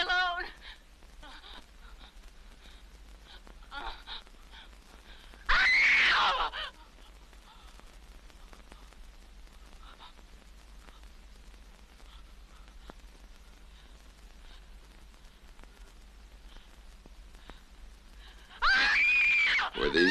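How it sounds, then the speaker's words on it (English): Two bursts of loud screaming from an Italian-Spanish horror thriller, one short cry near the start of the stretch and another near the end, separated by a long, quiet, murmuring room tone. "Were these the screams you heard?"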